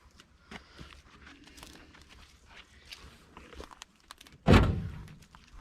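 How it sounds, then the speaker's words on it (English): A metal gas tank set down in the bed of a 1968 GMC pickup truck lands as a single loud thunk near the end, after quiet shuffling and small knocks. "I put that gas tank in the bed."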